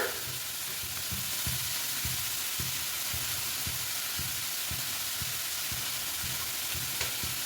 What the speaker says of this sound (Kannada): ಇದು ರೋಸ್ಟ್ ಆಗ್ತಾ ಇರಲಿ ಹಾಗಲಕಾಯಿ ಸ್ವಲ್ಪ ರೋಸ್ಟ್ ಆಗಲಿ